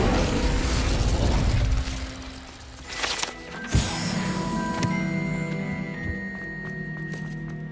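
An Incendio fire spell bursts in Hogwarts Legacy, a sudden whooshing pop with a crackling flare, followed by mechanical clanks and a lingering tonal hum.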